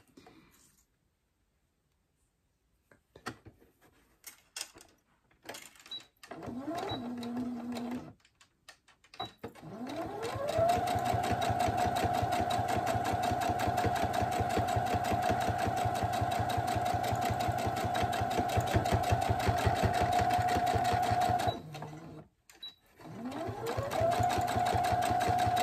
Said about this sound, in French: je refais ma deuxième surpiqûre sur l'autre côté